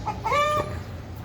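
A rooster squares off against a peacock, and one bird lets out a single short, harsh squawk close by, with faint background noise before and after.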